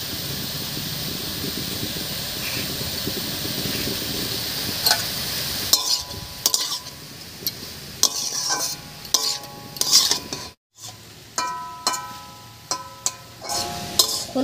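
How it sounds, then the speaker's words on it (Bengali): Mixed vegetables seasoned with salt and turmeric are stirred in a pan over a soft sizzle, with a spoon scraping and clinking against the metal in irregular strokes, close and clear, with no talking. "হলুদ লবণ দিয়ে একটু নাড়িয়ে নিয়েছি"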